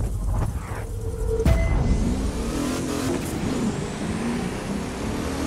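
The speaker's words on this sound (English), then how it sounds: "Listen to the engine. It's saying, let's win." A V8 car engine in the racing game The Crew 2 revs and pulls hard, its pitch climbing as it accelerates, with a sharp mechanical hit partway through and a steady roar afterward, heard alone without voices.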